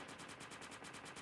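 A mech in a video game fires its machine gun in one rapid, continuous burst of evenly spaced shots, loud and sustained throughout the short stretch.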